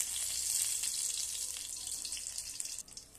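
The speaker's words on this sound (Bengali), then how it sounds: "আমি কড়াইতে আবার সর্ষের তেল দিয়ে দিলাম, আর সর্ষের তেলে দিয়ে দিব 2টো শুকনো লঙ্কা" Two dry red chillies frying in hot mustard oil in a wok, a steady close hiss and crackle that holds continuously before dropping off near the end.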